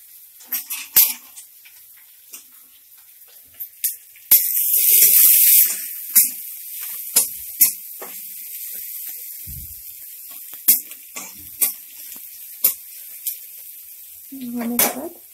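Onion drops into hot oil already tempered with cumin and dried curry leaves, setting off a sudden loud hiss that fades. Sharp scattered spattering pops follow in a quiet kitchen.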